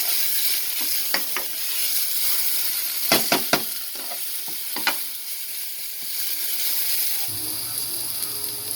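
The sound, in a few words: onions frying while being stirred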